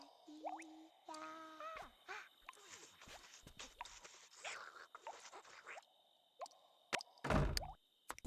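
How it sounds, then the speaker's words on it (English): A dripping tap in The Sims 2 gives a few soft, irregular plops amid quiet in-game sounds, ending with a louder burst of noise. "I can hear that dripping tap again."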